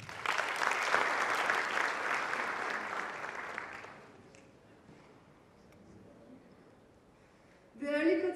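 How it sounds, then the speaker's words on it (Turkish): Students at a university economics and administrative sciences faculty orientation applaud for several seconds, a dense crowd clapping that fades away, with a voice starting up at the end. "alkışlamanızı istiyorum."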